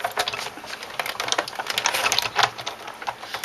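An embossing folder between clear plates is cranked through a manual die-cutting machine, giving a continuous close rattling, ratcheting grind with fine rapid clicks throughout, loud and with no talking.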